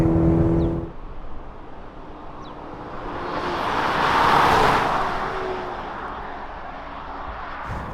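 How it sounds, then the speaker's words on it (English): A 2020 Cadillac CT4 with an 8-speed automatic pulls hard, its engine note swelling to a peak midway and then easing off, heard from inside the car over road and wind noise, with no talk. "linearly all throughout the RPM range, and it shifts a bit earlier than I would expect it to"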